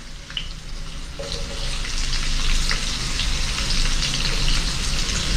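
Brinjal fries in oil in a pan for a brinjal curry, producing a constant, fairly loud sizzling hiss that swells slightly after the first second and holds steady to the end, with no voices.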